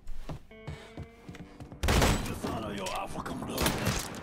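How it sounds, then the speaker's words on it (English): Shotgun blasts from the video game Mafia 3 erupt after quieter game sounds, a loud boom near the two-second mark followed by sustained noisy gunfire and rumble, with voices mixed in. "Shotgun dong"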